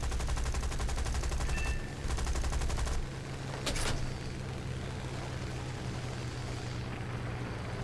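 Gunfire aimed at the player's plane in War Thunder, rapid machine-gun bursts rattling in dense volleys for a few seconds over a droning aircraft engine, then cutting out and leaving the engine hum alone.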